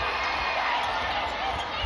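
Crowd in a volleyball arena at a pro women's match cheering in a dense, steady roar of many voices across a brief moment.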